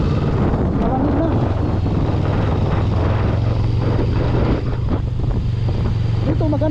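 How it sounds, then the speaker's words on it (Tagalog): Loud wind buffets the microphone while riding a motorcycle on an enduro road on a trip to Cagayan de Oro, a constant rumbling rush with engine drone beneath and some speech mixed in. "Simoy ng hangin."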